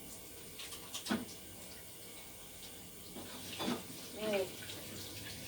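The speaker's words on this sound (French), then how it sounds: "Je vais me passer les mains à l'eau parce que c'est gras." Greasy hands rinsed under a running tap, a faint, soft stream of water with a few splashy bursts, while a voice briefly speaks.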